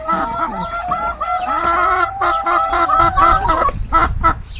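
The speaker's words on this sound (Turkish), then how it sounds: "Tavukların serenatı." Several chickens cluck and cackle in a garden, close and lively, their calls overlapping in an uneven chorus with faint rustling underneath.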